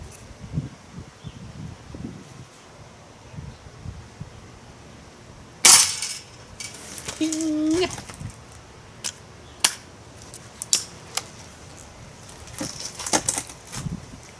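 A Benjamin Trail NP break-barrel air pistol sends pellets into a metal spoon target. Several sharp, isolated impacts ring out at uneven intervals, one with a brief metallic ping, over quiet outdoor rustling.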